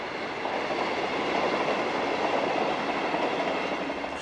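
A train runs along the Venice railway causeway in Italy, a steady, loud rumble of wheels and carriages that holds evenly for the whole stretch with no voices.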